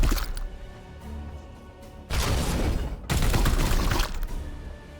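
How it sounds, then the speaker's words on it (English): Weapons fire in bursts during a Warhammer 40K Chaos Gate battle, with loud, harsh volleys starting around two seconds in and a second sustained barrage soon after, separated by a brief quieter gap. "And fire again. Perfect. Firing on target."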